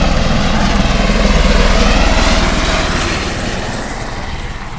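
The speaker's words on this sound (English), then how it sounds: "Well, we have to deal with helicopters as well. That was pretty close." A helicopter passes close overhead at the start of the RORC Caribbean 600 sailing race in 2020, a loud, continuous rotor thump and engine roar that dominates, then gradually recedes.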